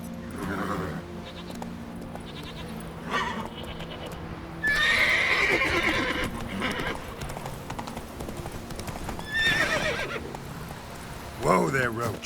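Roach, the horse in The Witcher 3, neighs loudly several times over steady hoof clip-clop, with a voice speaking in between.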